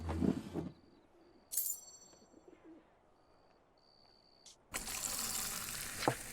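A pint of beer poured in the video game Fable II, with a broad foamy gush of liquid at the end after a quiet stretch dotted with short chimes and tones.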